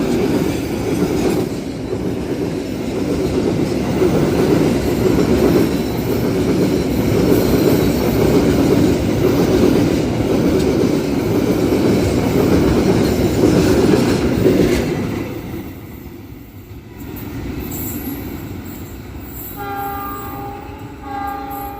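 A cement freight train rolls past on the railway, a loud sustained rumble with wheel clatter for about fifteen seconds before it fades into quieter ambient noise.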